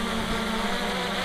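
A 3DR Solo quadcopter hovers nearby, its rotors giving a steady, even buzzing whine with no talk.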